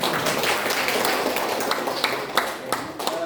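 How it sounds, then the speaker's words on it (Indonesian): A room of participants at an educational session claps for the facilitator, with close, loud, irregular hand claps that carry on for several seconds and thin out toward the end. "Boleh kasih tepuk tangan sekali lagi."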